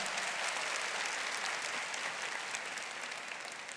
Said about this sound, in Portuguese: agora aplauda quem está do seu lado